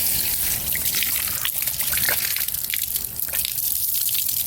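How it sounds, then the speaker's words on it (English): Water from a garden hose trickles and splashes through a clogged heater core on a MK6 GLI, a steady close dribbling and gushing flow with brief spurts, no talking. "let's put it through the water hose"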